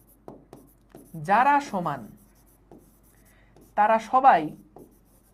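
Short scratchy strokes of writing on a board during an HSC physics lecture on vectors, coming in brief bursts between and beneath a lecturer's speech.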